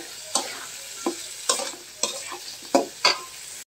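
Lentils and potato sauté in a pan for a thin khichdi, a soft background sizzle punctuated by about six distinct, evenly spaced scrapes of a spoon stirring.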